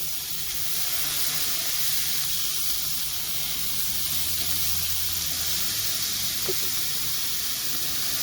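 Smashed burger patties sizzling on a flat griddle in an RV kitchen, a steady loud hiss filling the whole stretch with a faint scrape as a patty is flipped and pressed down.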